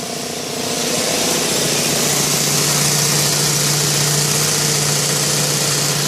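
An air engine in a benchtop hybrid drive system runs steadily, giving a continuous mechanical drone with a low hum and rattling vibration that holds level throughout.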